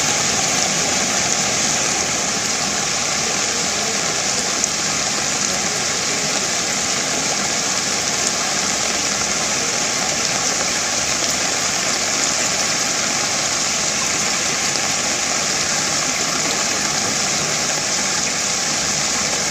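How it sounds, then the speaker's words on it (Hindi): Heavy rain and rushing flood water in the Konkan region of Maharashtra, a loud, unbroken broadband roar that holds steady throughout with no other sounds standing out. "महाराष्ट्र के कोंकण क्षेत्र में भारी बारिश हुई है और बाढ़ के हालात बन गए हैं"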